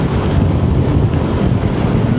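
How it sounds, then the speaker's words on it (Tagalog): Strong wind roars into the microphone while riding a Yamaha NMAX motorcycle across a long bridge over a river in northern Luzon, a loud continuous buffeting rush. "Lakas ng hangin dito."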